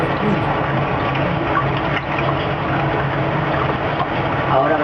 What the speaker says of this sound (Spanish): Ahora habrá que llenar agua.